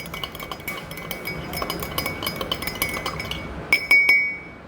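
Salt being stirred into 50 ml of water in a glass gives a steady run of light glass clinks, close and clear, ending in a few brighter, ringing taps.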